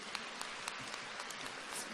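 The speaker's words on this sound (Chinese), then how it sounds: "鼓掌。" A small group claps continuously, faint and somewhat distant, a dense patter of hand claps with no voices over it.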